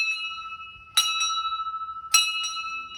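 A bell at an ancient Shiva temple is struck twice, each strike a bright metallic clang with a long shimmering ring that decays slowly, close by and clear over quiet surroundings.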